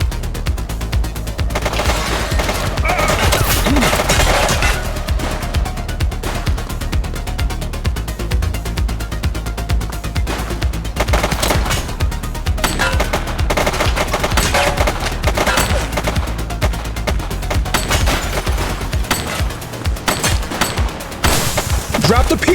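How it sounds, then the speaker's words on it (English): Rapid bursts of automatic gunfire and repeated shots crackle loudly and almost continuously in a police shootout in the video game The Precinct, with dense volleys and brief lulls. "Shots fired!"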